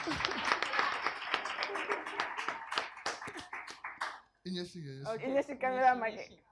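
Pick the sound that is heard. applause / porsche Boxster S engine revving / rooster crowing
applause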